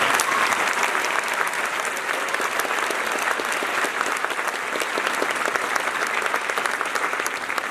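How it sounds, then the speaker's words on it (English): Sustained applause from a concert audience at a county honor band performance, steady dense clapping filling the whole stretch with no pauses. "So how about one more round of applause for the community?"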